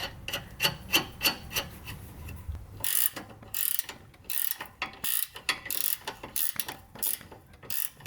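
A ratchet wrench clicks in quick bursts while 14mm bolts on rear sway bar end links are loosened or tightened, with rapid pawl ticking, metallic rubs and pauses, close and alone without talk.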